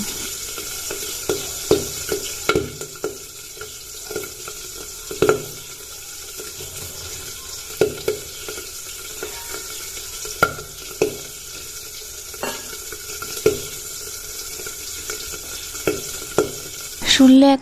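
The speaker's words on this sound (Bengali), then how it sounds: "এই যে শিঙি মাছগুলো এখন আমি ভাজবো তো ভাজার সময় এত এত করে ফোটে এত এত ফোটে" Singi catfish frying in hot oil, a steady sizzle broken by sharp spluttering pops at irregular intervals, close and fairly loud, with no talking.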